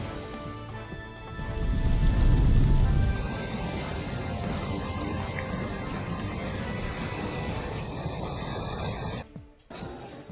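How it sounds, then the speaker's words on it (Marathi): Heavy monsoon rain pours down in Patoda, Beed district, Maharashtra, in a dense, continuous roar, loudest at first and then settling into a steady drumming wash. "बीड जिल्ह्यातील पाटोद्यामध्ये पावसाची जोरदार हजेरी"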